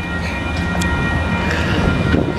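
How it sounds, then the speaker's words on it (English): A close, steady train rumble fills the space, with faint rattling and clicks over the constant low roar. "just getting off the train"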